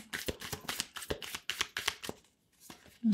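Tarot deck being shuffled by hand, a rapid run of crisp riffling card flicks at close range, falling quiet near the end before a brief voice.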